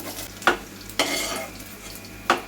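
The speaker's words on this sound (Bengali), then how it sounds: "যে সাদা তেল বসিয়েছি এগুলো হালকা করে একটু ফ্রাই করে নেবো" Cut rolls frying lightly in white oil in a pan: a steady close sizzle broken by three sharp scraping clicks of a spatula stirring against the metal.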